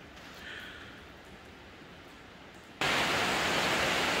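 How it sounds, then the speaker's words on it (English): Rain pours outside an uninsulated shop as a steady hiss, first a quieter wash, then it abruptly jumps to a loud, dense roar that continues to the end. "Sorry for the noise, that's just, it's raining out."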